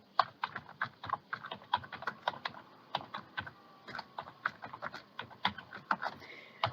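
Typing a comment on a computer keyboard produces quick irregular bursts of key clicks and taps, close and fairly loud, with brief pauses between clusters of keystrokes.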